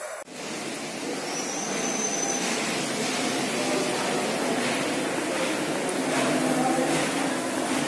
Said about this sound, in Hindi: हेलीकॉप्टर चल रहा है तो आवाज़ नहीं आ रहा है